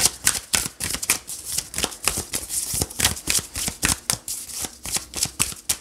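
Tarot cards are shuffled and drawn in rapid, crisp riffles and slaps, close and fairly loud, in an uneven but continuous rhythm with no talking over them.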